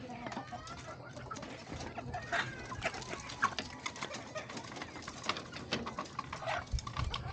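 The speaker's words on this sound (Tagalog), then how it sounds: "nagpapakain na kasi kami ng manok ni Mrs. Yan" Chickens cluck and murmur while being fed, soft irregular calls close by over a busy backdrop of scratching and movement, with other bird calls mixed in.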